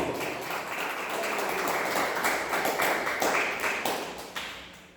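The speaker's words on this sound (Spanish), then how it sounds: "Denle fuerte palmas a Jesús" A church congregation clapping loudly in praise during a sermon on demonic influence, a sustained crowd of hands with sharper individual claps rising near the end and little talk.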